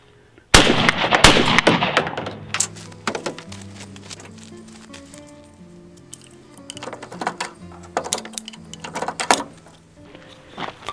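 A shotgun fires a reloaded Winchester Super X steel shell in one sharp, loud blast, then the mechanism clacks and rattles several times as the gun is worked, all close by and with no talk.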